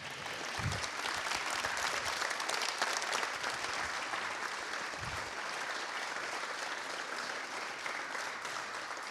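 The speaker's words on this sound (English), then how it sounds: "Give a big hand of applause for Gabor Steingart." Steady applause from a sizable audience, continuous and even throughout, with no voices standing out.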